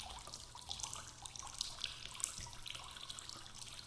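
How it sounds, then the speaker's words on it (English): Water dripping from a leak into a large puddle on a penitentiary shower floor in a video game: scattered small drips and trickling over a low, steady ambient hum, faint and without talk. "I wondered how long it had taken for the leak to make a puddle that large."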